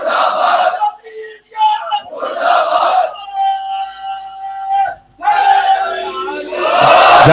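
A crowd at a religious majlis chants slogans in loud, close call-and-response bursts, voices rising and falling with brief pauses between shouted phrases.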